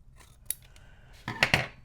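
Scissors snipping around an air bubble encased in resin, a few crisp close cuts with two sharp snips near the end, no talk.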